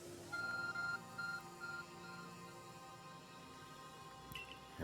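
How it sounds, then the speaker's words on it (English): The Arc Phone in the video game Pokemon Legends: Arceus gives a faint, high beeping chime, several short tones in a quick run then spaced pulses, over a quiet musical background with a small glint near the end. "Here goes our Arc Phone."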